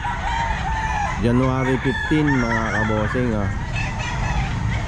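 Roosters crow repeatedly among clucking chickens at the Grotto pet market, several close, overlapping calls over a busy background while someone speaks briefly.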